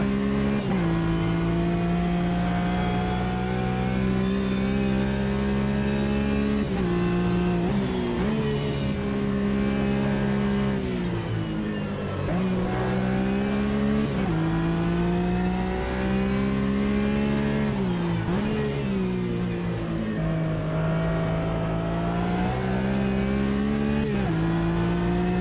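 GT race car engines in Automobilista 2 drone and rev continuously and loudly, with the pitch climbing and dropping through gear changes across the whole stretch and no talking.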